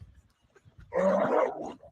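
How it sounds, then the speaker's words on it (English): A dog lets out a strange, strained howling or roaring vocalisation at a deer camp, one sustained loud burst lasting about a second after a quiet stretch with faint background rumble. "Something's wrong with that dog"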